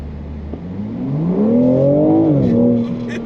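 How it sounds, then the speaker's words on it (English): A 2024 BMW M4 Competition convertible with a six-cylinder engine, in sport mode, revving up hard with a rising then steady engine note, loud and close, no talk. "This thing sounds like it has a V8, but it's just a 6-cylinder."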